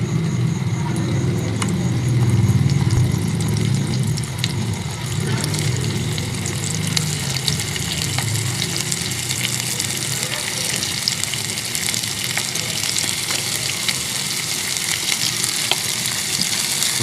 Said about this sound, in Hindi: ये जो हमने अपनी जो टिक्कियाँ तैयार की थी इन मिनी कबाब्स को हम इसके अंदर फ्राई कर लेंगे